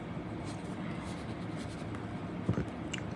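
Pen or chalk scratches across paper or a board while writing out a math problem for a fifth-grade lesson, with soft, irregular scraping strokes up close and a couple of sharper taps near the end.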